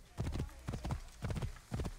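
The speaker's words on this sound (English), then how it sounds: "Can I just call my horse in then?" Hooves of a horse in the video game Assassin's Creed Origins, four distinct clusters of clip-clop beats in an even galloping rhythm, close and clear, with no talk.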